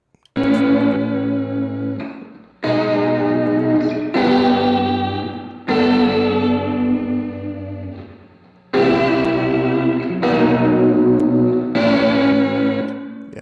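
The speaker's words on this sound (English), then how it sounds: "adds some of that distortion, and gives it like a vintage sound" Heavily distorted electric guitar chords with a warm, fuzzy lo-fi tone from an Ableton distortion effect, played in long sustained strums one after another, loud and close.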